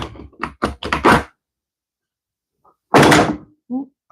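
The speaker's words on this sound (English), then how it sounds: "I knocked over a clamp." A clamp knocked over in a woodworking shop during a door glue-up clatters in a quick run of knocks and thunks, followed after a pause by a louder thump, with no voices.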